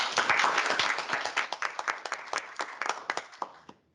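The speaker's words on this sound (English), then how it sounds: "Can we give it a round of applause?" Audience applause at a public employment stimulus programme closeout seminar: a burst of crowd clapping that begins full and loud, then thins into scattered separate claps and fades out by the end, with no talking over it.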